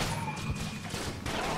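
Rapid bursts of gunfire from the co-op twin-stick shooter Enter the Gungeon, dense and continuous at a steady level, with no talk over them.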